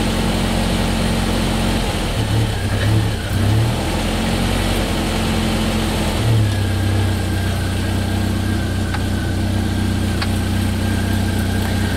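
A Jeep Wrangler TJ engine with a high-idle fault idles steadily at a fairly high, even pitch, with a constant hum and faint whining tones over it.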